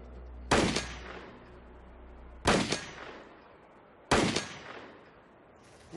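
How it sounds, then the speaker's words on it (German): Three loud, sharp gunshots ring out at roughly even intervals, each shot fired through a chronograph to measure bullet speed and followed by a short echoing decay outdoors. "Ich schieße ein paar Mal und dann sehen wir,"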